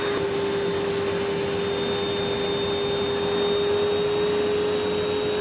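A Eureka Powerspeed or Vacmaster Respira vacuum cleaner running continuously, a loud, steady motor whine with a fixed pitched tone and a broad airy rush throughout, with no talk.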